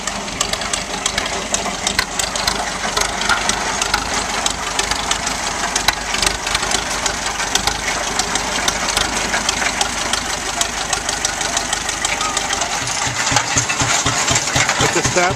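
An old United road grader's engine runs at a truck show at a sand and gravel company, a continuous rough mechanical clatter with a knocking, idling character, close and steady throughout.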